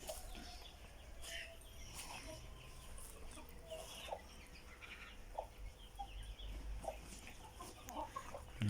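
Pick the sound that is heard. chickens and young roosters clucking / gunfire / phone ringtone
chickens and young roosters clucking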